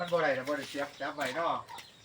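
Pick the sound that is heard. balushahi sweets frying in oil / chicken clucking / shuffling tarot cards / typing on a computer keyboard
chicken clucking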